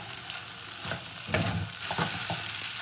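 Fish and spices frying in hot oil while being stirred, a steady close sizzle broken by scraping stir strokes and small crackling bursts, with no voices.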